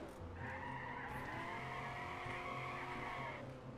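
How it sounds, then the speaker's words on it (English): Car drifting and skidding around a corner in a video game, with a sustained, loud tire squeal over a steady engine drone for several seconds and no talk. "This car is like a drift car. Watch this. If I go around this corner right here."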